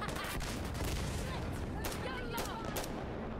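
Rapid gunfire in the shooter game Insurgency Sandstorm, sharp repeated shots and bursts in quick succession over a busy battle background, with a voice talking at times.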